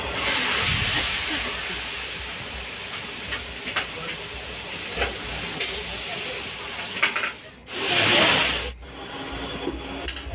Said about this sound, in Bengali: এখন পটলকে ভেজে নেওয়া হচ্ছে